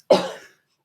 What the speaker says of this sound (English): I just muted myself so I could cough.